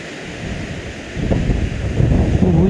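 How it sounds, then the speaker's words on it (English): Strong outdoor wind buffets the microphone on an overgrown jungle lane, a broad steady roar that swells louder midway and stays heavy to the end, with no talking. "Oh, wind stopped blowing."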